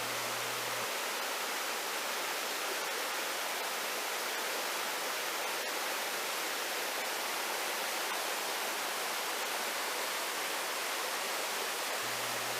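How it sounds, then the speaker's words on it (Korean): Mountain stream water rushing through Cheonbuldong Valley on Seoraksan, heard from a bridge above as a dense, constant broadband roar that holds steady throughout with no voices. "다리 위로 올라가며 내려다본 천불동 계곡 계곡물의 모습입니다."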